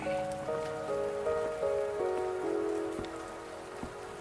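Steady rain falls on surfaces in the video game Wuthering Waves with a dense hiss. A soft descending musical tone plays underneath and there is no talking.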